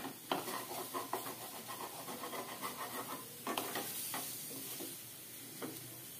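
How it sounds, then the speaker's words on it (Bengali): Boiled teasel gourd (kakrol) fries in a pan with a continuous hissing sizzle and a rhythmic run of scraping stirs, loud and close. "এটাকে একটু ভাজা ভাজা করে"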